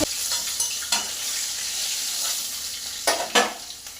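Hilsa fish pieces frying in oil in a pan, a steady close sizzle with a few sharper bursts and scrapes as the spatula moves.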